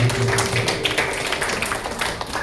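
A church congregation at a Christmas Sunday service in Malang claps together in a dense, continuous burst of close hand claps filling the room for a few seconds.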